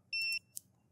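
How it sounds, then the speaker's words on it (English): A single short electronic beep comes from a ticking bomb timer in a quirky video game, a bright tone lasting a fraction of a second, then a brief faint click. "it sounds like the timer is going a little faster"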